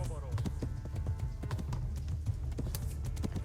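Horse hooves galloping in Kingdom Come: Deliverance, rapid rhythmic clip-clop beats close by, repeating steadily over a low rumble, with voices talking over it.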